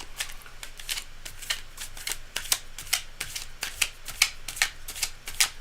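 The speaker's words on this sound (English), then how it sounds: "cards are very well shuffled" Tarot cards are shuffled by hand in a rapid series of crisp riffling bursts, close and fairly quiet, with no talking.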